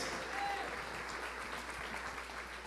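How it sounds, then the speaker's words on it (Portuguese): A church congregation applauds softly and at a distance, a steady, even patter of many hands under a low constant hum, without any clear speech. "Você pode aplaudir ao Senhor."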